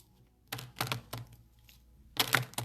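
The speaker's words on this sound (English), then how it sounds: "So I'm going to shuffle a couple times with this deck." A deck of cards is shuffled a couple of times, giving short riffling bursts separated by pauses, close and fairly crisp with no talking.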